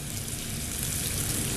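Salted butter sizzling in a hot pan: a steady, close broadband hiss and crackle lasting the whole moment, with no talking.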